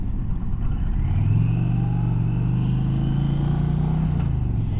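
An Indian Challenger motorcycle engine drones while riding, a loud low rumble under heavy wind noise, with the pitch climbing smoothly as it accelerates and then easing off near the end.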